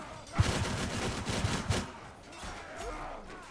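Dense, crackling volleys of musket fire from Ironbreaker dwarf troops during a mountain battle in Mount & Blade II: Bannerlord, heaviest in the first two seconds before fading into a rumbling battlefield wash.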